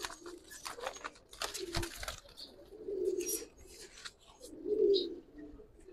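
Black-tailed pigeons coo in low, soft bursts, with two clear rounded coos standing out near and moderately loud, along with faint clicks and light chirps in a quiet room.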